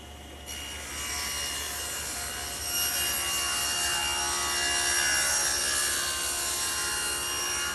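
A wooden backer block being cut to a 40-degree bevel for crown molding, sawn in a steady, continuous rasping pass that holds close and fairly loud throughout, with no talk.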